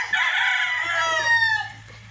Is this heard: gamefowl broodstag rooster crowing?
yes